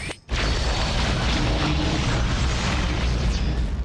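Brimstone's orbital fire strike ultimate in Valorant erupts after a brief pause into a loud, dense, continuous roar of fire and blast energy that holds steady for several seconds.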